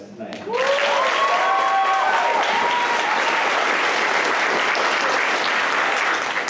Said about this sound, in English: Let's give another round of applause to the incredible board and the folks who organized tonight.